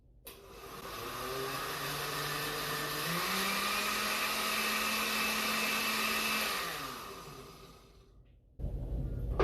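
A glass blender whirs through a batch of cacao tea for several seconds, a loud, steady motor drone whose pitch shifts slightly as the mix churns, then it winds down and stops, followed by a brief clatter.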